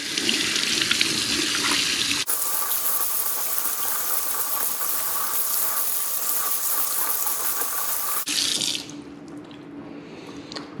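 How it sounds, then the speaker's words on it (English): Calamari being rinsed under a running kitchen tap, a steady hiss of water splashing into a sink that holds for several seconds before cutting off, close and fairly loud with no talk. "Quick rinse now."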